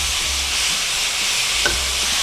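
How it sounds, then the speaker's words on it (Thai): Pork stir-frying in a hot pan for a Thai curry, a steady loud sizzle and hiss running throughout with faint scraping of stirring, no voices. "รวนหมูให้ออกสุกหน่อยๆก่อนนะ ให้มันเหลืองให้เหลืองออกหน่อยๆก่อนค่ะ"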